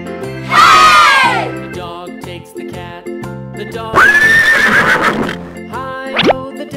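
Two loud, shrill horse whinnies rise and fall against a jaunty musical backing, followed by a brief short squeal.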